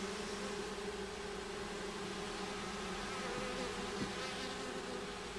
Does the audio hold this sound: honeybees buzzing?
yes